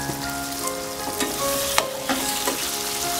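Sausage fries in oil in a pot, giving a steady close sizzle with occasional stirring clinks and scrapes throughout, and no one speaks.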